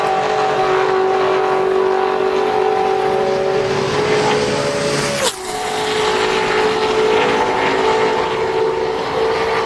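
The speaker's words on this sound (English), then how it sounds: "back out here to make a qualifying run. He's going to be the last car" A NASCAR Nationwide Series race car on a 2009 qualifying lap gives a loud, sustained engine drone that rises steadily in pitch, then sweeps sharply past at close range and drops in tone as it carries on alone.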